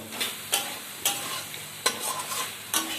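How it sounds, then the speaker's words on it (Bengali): Ground spice paste frying in a pan for a spicy bhetki fish curry, a low sizzle broken by five or six sharp scraping strokes of a spatula stirring it, spaced unevenly, with no talking. "ভালো করে আমি কষিয়ে নিচ্ছি"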